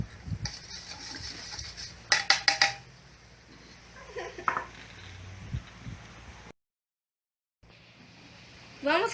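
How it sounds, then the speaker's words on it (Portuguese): Metal cooking pots, one holding plain water and one salted water, set down and clattering on a surface, with sharp clanks and rattles amid a person talking and a brief silent gap. "Vamos colocar a panela que está com água pura aqui e a panela que está com soluto aqui."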